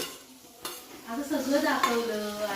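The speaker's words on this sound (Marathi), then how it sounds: "तर मस्तपैकी कांदा फ्राय करून घेते ती आधी आता टाकलं जातं टॅमॅटो" Onion frying in a pan as tomato is added for a cashew-nut vegetable dish at a Konkan Gudi Padwa gathering: loud, close sizzling with a clatter of utensil stirring and scraping against the pan.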